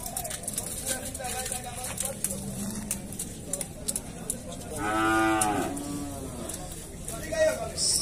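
Cows moo, one long low call followed by a shorter one, amid outdoor background noise and people chatting nearby at a cattle fair in Dois Riachos, Alagoas, Brazil.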